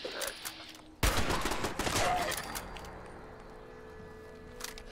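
Automated turret in Fallout 76 firing a rapid burst of gunshots that starts abruptly and rings out, then fades into a lingering rumble with scattered later shots.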